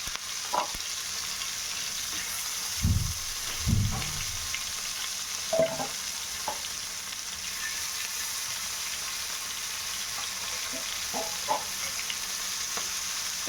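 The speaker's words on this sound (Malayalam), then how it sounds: "മീൻ എടുത്തു എണ്ണയിൽ." Fish sizzles steadily in hot oil during a home lunch cook, a constant crackling hiss with a few low clunks and bumps from the pan partway through.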